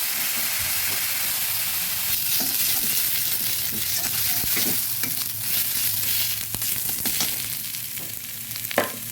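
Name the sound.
onions frying in a pan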